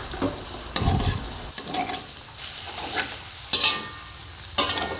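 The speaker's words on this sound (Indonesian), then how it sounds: "Aduk, tumis sampai merata." Beef stir-fried in a pan for a sweet spiced braise, a steady sizzle broken by several sharp scraping strokes of a spatula against the metal.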